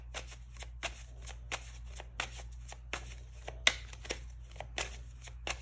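A deck of tarot cards is riffled and shuffled repeatedly close by, in quick bursts of crisp flapping with brief pauses between them over a low steady hum.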